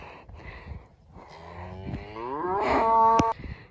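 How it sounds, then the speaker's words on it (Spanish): A cow moos outdoors on a mountain road in the Venezuelan páramo, one long, loud, rising low call close by, with no talking over it. "Ahí está una vaca."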